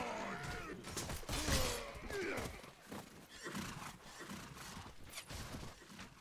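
A horse whinnies loudly and hooves clip-clop in a medieval desert battle in the video game Mount and Blade: Warband with the Perisno mod, mixed with clanking weapons and scattered battle noise.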